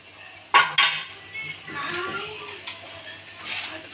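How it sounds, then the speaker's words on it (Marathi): A spoon scrapes and clatters in a frying pan while ginger-garlic paste and coriander are stirred for pav bhaji, with two sharp knocks early on, then a lighter sizzle and occasional taps. "अद्रक लसूणची पेस्ट 1 चमचा, कोथिंबीर. आता त्याला मिक्स करून घेऊया."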